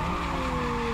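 A race car in the video game Assetto Corsa brakes hard into a corner, with a continuous loud engine drone and tire squeal throughout the short burst. There are no voices.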